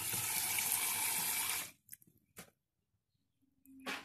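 Water running hard from a kitchen tap for rinsing, a loud steady gush that stops abruptly, followed by a few drips and splashes and a brief final trickle.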